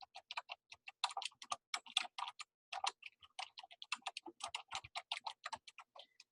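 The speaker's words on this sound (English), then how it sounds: "And then I'm going to type Furniture Warehouse Company." Rapid clicking of keys on a computer keyboard as a letter heading is typed, close and fairly quiet, in irregular bursts of keystrokes with short pauses between words.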